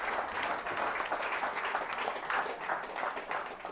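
A comedy club audience applauds steadily, with dense, continuous clapping that holds at an even level for the whole stretch.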